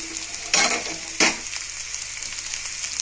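Cabbage, capsicum and carrot fry in a pan with a steady close sizzle, broken by two louder scraping stirs, and no one talks.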